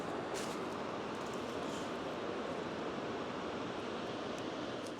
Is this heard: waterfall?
yes